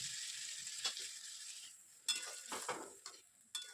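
Potatoes and eggplant are stir-fried with spices in a pan, with a soft steady sizzle under intermittent spatula scrapes and clinks against the pan.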